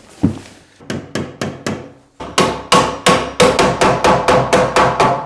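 A hammer taps wood in a quick run of sharp, evenly spaced knocks, a short pause, then a longer series of steady close strikes.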